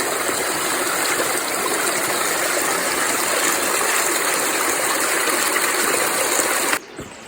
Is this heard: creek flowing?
yes